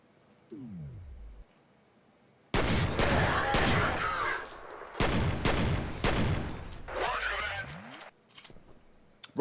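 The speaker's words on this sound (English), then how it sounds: "Roger that, I heard that explosion." Blasts and bursts of gunfire sound effects: several sharp, loud broadband bangs and crackling volleys in quick succession after a short rising whoosh, with a descending sweep at the start and another rising sweep near the end.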